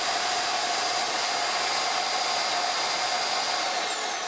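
An RVac RV central vacuum system runs with a loud, steady high-pitched whine and rushing airflow, constant and close throughout with no talk.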